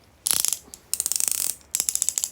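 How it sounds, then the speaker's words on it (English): The two spinning wheels of a fidget toy robot give off quick ratcheting clicks in three short bursts, close and clear with no talking. "It has 2 wheels that spin"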